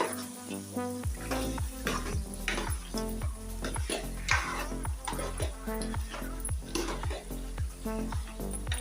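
Chicken frying in a pan for curry, a loud continuous sizzle under a steady rhythmic beat of music, with occasional scraping and clinks of stirring.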